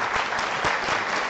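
Audience applause at an education forum talk concert, a dense, steady burst of many hands clapping close up, filling the whole moment without voices.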